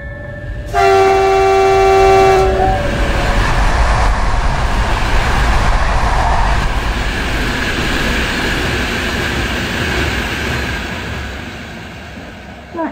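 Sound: passing train sounding its horn

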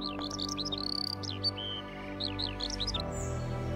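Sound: great reed warbler song at a lake

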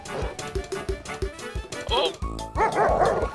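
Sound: pug dog barking in GTA 5 video game

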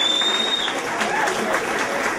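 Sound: applause

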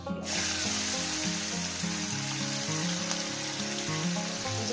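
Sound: frying dried shrimp with green chili and crushed garlic

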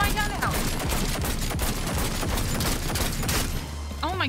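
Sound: gunfire in video game Cyberpunk 2077 Phantom Liberty

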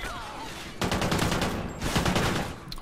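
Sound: gunfire in the video game Call of Duty Ghosts

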